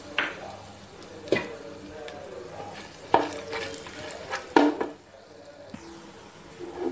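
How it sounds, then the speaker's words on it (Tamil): Star anise, cloves and cardamom frying in ghee and oil for ghee rice, a steady close sizzle with a few sharp clinks of a spoon stirring against the pan. "இப்போது பூப்பட்டை, கிராம்பு, ஏலக்காய் எல்லாமே வந்து நல்லா பொரிஞ்சிச்சு."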